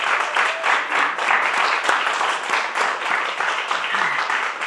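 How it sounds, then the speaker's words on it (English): Steady applause from an audience, a dense wash of clapping that holds at an even level throughout. "give her another round of applause,"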